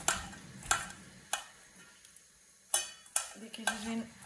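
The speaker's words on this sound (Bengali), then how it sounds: "মাত্র 4টা শুকনা মরিচ আর 2টা কাঁচা মরিচ দিচ্ছি।" Four dried red chillies and two green chillies going into hot oil in a pan for tilapia fish bhorta, with spaced clacks of a spatula against the pan over a soft sizzle.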